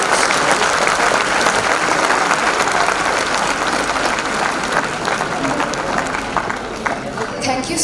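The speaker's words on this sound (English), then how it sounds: "Please give a big round of applause for these deserving students." An audience at a school annual day applauds students honoured for Olympiad medals, a loud, continuous crowd of clapping that holds steady throughout with a faint murmur of voices mixed in.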